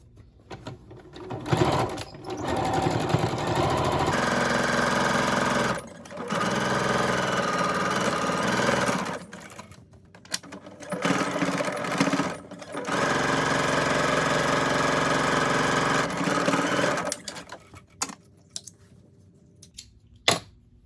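Sewing machine stitching the sides of a simple rectangular fabric face mask, closing its opening; loud, steady motor whirring in several long bursts separated by short pauses, alone without talk.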